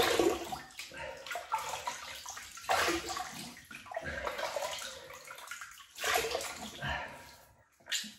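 Water splashes and sloshes in bursts as hands cup it to wet the face before a wet shave, close and fairly loud, with short pauses between scoops and no talking.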